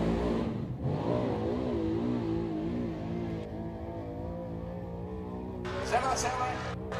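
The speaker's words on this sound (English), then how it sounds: "Carrier's car didn't sound exactly right there" Late model race car engine running rough at a dirt track, a steady droning roar with wavering harmonics throughout, heard beneath continuous commentary from an announcer.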